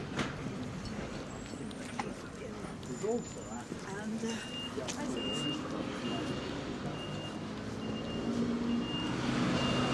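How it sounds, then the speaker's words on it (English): A large truck's reversing beeps repeat at an even rhythm over rumbling engine and street noise on a harbourside street in Torquay, Devon, while a person talks nearby. "that was a big truck reversing"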